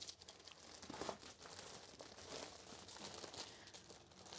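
A plastic shopping bag of Lidl groceries crinkles and rustles near the microphone as items are taken out one by one, irregular bursts of crackling with no talking.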